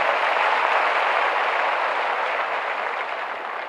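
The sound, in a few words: audience applauding police recruits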